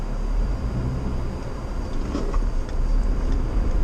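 A four-wheel-drive vehicle on aired-down BFGoodrich KO2 or Cooper Discoverer A/Tw tires pulls away on snow, a steady close low engine rumble with tire and road noise that builds slightly as it accelerates.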